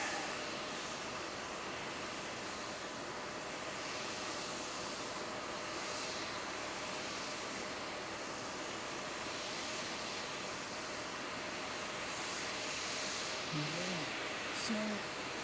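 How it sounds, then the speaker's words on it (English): A small, glider-like light aircraft passing overhead near Nagasaki Airport, heard as a steady broadband engine drone that holds throughout at moderate loudness with a faint tonal hum. "we've got a little aircraft overflying us"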